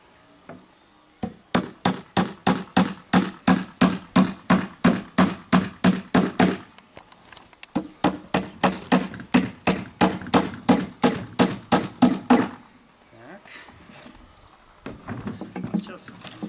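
A hammer drives nails into a wooden birdhouse with two long runs of rapid, evenly spaced sharp knocks, close and loud, separated by a brief pause, followed by a few scattered taps.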